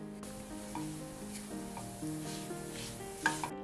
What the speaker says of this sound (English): Add a teaspoon of ghee and cook it in medium heat until the jaggery melts and